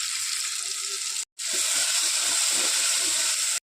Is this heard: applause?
no